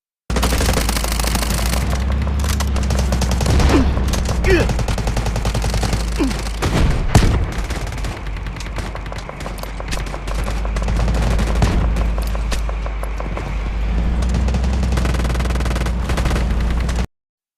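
An UZI submachine gun fires in a video game, long loud continuous bursts of rapid automatic fire filling the whole stretch with only brief dips between strings of shots.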